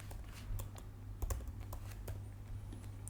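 Typing on a computer keyboard, with quick irregular key clicks close by and fairly quiet over a low steady hum, with no voices.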